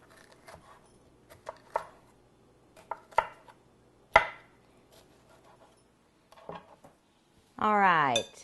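A large green pepper sliced on a cutting board, a handful of separate knife chops spaced irregularly, close and fairly crisp, ending in a brief burst of talk.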